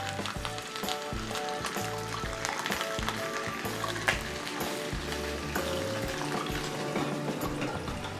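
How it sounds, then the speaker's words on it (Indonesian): Snakehead fish frying in hot oil, giving a steady, dense sizzle with crackling pops that carries on without a break through the whole stretch, close and fairly loud, with no voice over it. "Kemudian masukkan ikan gabusnya dan kita goreng hingga matang."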